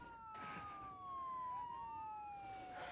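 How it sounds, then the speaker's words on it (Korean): A police siren wails with long, sweeping tones that rise and fall, heard alone at a moderate distance. "사이렌 소리가 들리고"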